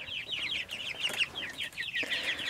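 Young chickens in a pasture pen, a lively overlapping chorus of high chirps and clucks, fairly close and continuous, with a few soft rustles and no talk.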